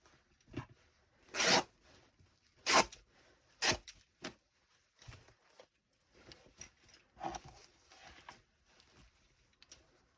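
Vintage fabric being torn by hand, several sharp ripping bursts followed by softer rustling and handling noises, close and quiet with no talking.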